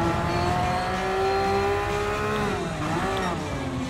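Porsche 911 race cars overtaking in Gran Turismo Sport, engines revving and droning with shifting pitch as cars pass, steady and fairly loud with no talk.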